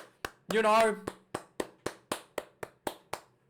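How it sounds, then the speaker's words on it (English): Slow, deliberate sarcastic handclaps from one person, about ten evenly spaced claps, close and distinct, after a brief burst of speech, following a Chiefs versus Waratahs Super Rugby quarter final in 2022. "Round of applause to the Waratahs."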